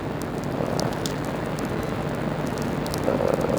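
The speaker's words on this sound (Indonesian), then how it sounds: "Benar-benar hujannya tuh awet, mungkin berhenti hujannya tuh jam 5." Rain falls steadily in Nepal Van Java, a mountain village, as a dense, even hiss of drops with faint scattered patters, moderately loud and unbroken, with no voices.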